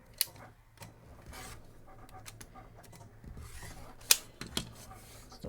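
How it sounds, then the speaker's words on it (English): Rotary cutter or scissors trimming cotton fabric for a quilt block, a few soft scraping rubs with sharp close clicks near the start and around the four-second mark, otherwise quiet. "Still trimming a little bit off."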